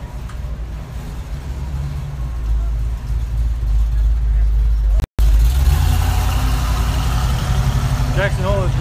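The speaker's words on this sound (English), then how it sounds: "it's an amazing amount of traffic that is in here" Busy road traffic in Jackson Hole, Wyoming, crowded for an eclipse, fills the air with a constant low engine rumble of idling and slowly moving cars and trucks. Voices talk nearby and a brief dropout cuts in midway.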